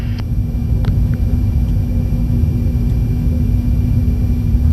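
A cargo aircraft taxiing on the ground, heard from the cockpit as a loud, constant low engine rumble with a steady droning hum and no break.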